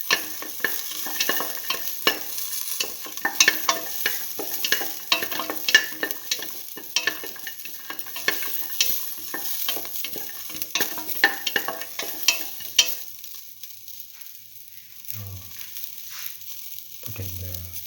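Shallots, garlic and salt frying in a pan crackle and sizzle with dense spattering pops, tapering off toward the end, when a couple of low thuds of the pan sound.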